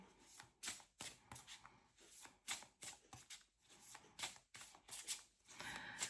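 A deck of tarot cards is shuffled by hand in repeated quick riffles and bridges, crisp papery bursts separated by short pauses, close and quiet with no talking.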